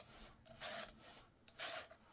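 A hand file rasps across a chainsaw chain's cutter teeth in two smooth, even strokes, close and fairly quiet, with soft scraping between the passes.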